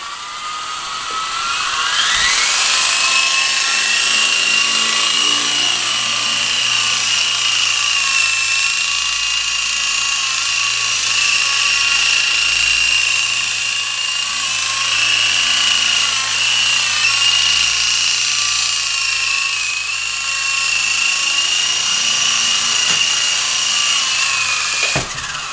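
A helicopter in flight gives off a loud, steady turbine whine that rises in pitch over the first couple of seconds, then holds constant with a droning rotor hum underneath, with no talking.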